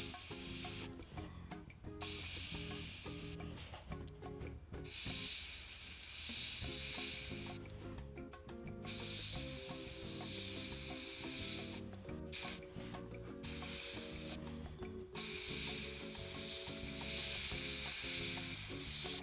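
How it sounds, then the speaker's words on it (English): Airbrush spray painting the wheel centers of a 28mm Crusader tank model, bursts of sharp hissing air lasting a few seconds each, separated by short pauses, close and loud. "so we have sprayed the centers of our wheels again"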